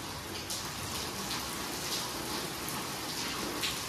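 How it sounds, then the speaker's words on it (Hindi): Heavy rain pours down steadily outdoors, a dense, even hiss of drops hitting surfaces with no voices. "कुदरत गाइस, बारिश तेज हो गई,"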